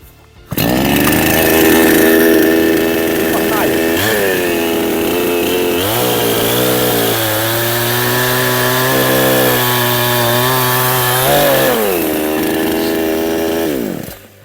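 A Helper gasoline chainsaw roars loudly and continuously, its engine pitch dipping and bogging as the chain bites into a large log, then revving back up near the end.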